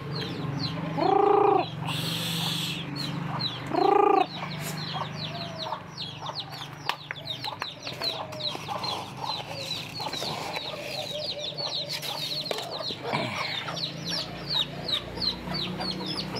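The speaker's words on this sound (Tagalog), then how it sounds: "Yung mga sisiyo ng manok niya, namumulot sila doon sa kabila." Hens cluck softly and repeatedly nearby, with a couple of louder bursts early on and busy chirping from chicks throughout.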